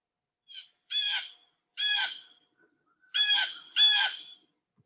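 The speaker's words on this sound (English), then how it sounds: "I will play the sound of the blue jay" Blue jay calls, four loud harsh screeching cries close by, the first two spaced apart and the last two almost back to back, with no other sounds around them.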